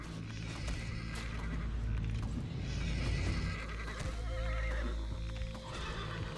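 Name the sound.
horse neighing and hooves in the video game FATE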